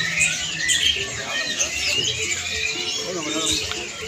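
Many caged birds chirp, tweet and squawk together at a busy bird market in Depok, Solo, Indonesia, making a dense, overlapping chatter. Someone talks nearby over the birdsong.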